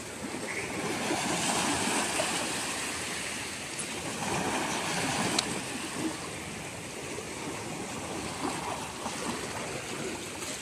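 Sea water surges and washes around close by as the tide rises during net fishing from the shore, a continuous rushing noise at a fairly even level.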